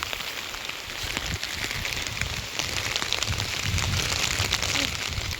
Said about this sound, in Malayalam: നല്ല കാറ്റും മഴയും കേട്ടോ, ഒടുക്കത്തെ കാറ്റും മഴയും